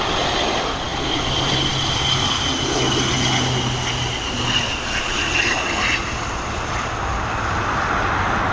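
An ATR turboprop comes in to land at Dublin Airport, a steady loud engine drone with propeller whine holding throughout, from an outdoor vantage point.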